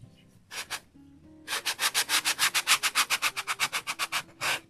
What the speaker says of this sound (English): And I have my sanding block here.